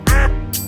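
A cartoon mother duck quacks once, loud and close, in a children's song about five little ducks, with music under it.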